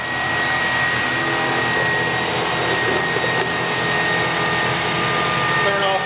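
The pump and vacuum of a no-touch cleaning system run together after priming, making a loud, steady whirring drone with no break across the whole stretch.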